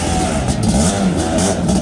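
A Suzuki Quadzilla 500 two-stroke ATV engine revs close by, a loud buzzy wavering whine rising and falling over a brief burst.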